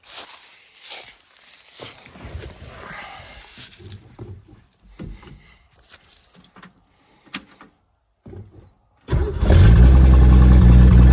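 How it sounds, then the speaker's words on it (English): A Ford Ranchero 144 inline-six engine in a shop cranks and fires, then settles into a loud steady idle, preceded by quiet shuffling and handling noises. "the motor, this is from the Ranchero actually. Inline six, 144 inline six, run and drives awesome. I'm actually fired up right now"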